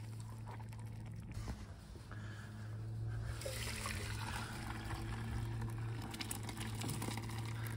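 Hot pasta water is poured out onto weeds outdoors, a steady splashing, trickling stream that grows fuller partway through over a low background hum.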